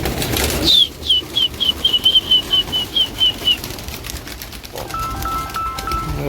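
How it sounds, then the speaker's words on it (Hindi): Pigeons burst out as they are released from their coop, a flurry of wing flaps following an initial rush, with a rapid series of sharp, high whistling notes over the fluttering that fades after a few seconds. "आइए फ्रेंड्स, खोलता हूँ पहले बड़े वाले कबूतर"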